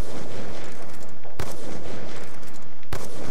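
Dense, loud gunfire from the Call of Duty Black Ops 2 video game fills the moment, with two sharper, heavier shots standing out among the continuous rattle.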